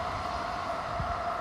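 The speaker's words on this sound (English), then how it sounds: "And now I hear a train." A train passes near a hiking trail, heard as a steady low rumble and rail hum in the distance, moderately quiet and without speech.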